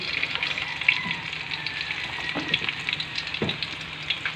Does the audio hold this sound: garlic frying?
yes